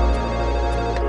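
Telephone ring tone, a steady electronic tone sounding continuously and fairly loudly for about a second, with no talking.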